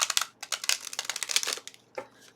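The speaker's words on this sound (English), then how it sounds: "I'm just going to do a quick little shuffle." A deck of tarot cards being shuffled quickly up close, a rapid run of crisp, papery riffling bursts that pause briefly and then end in one last flutter.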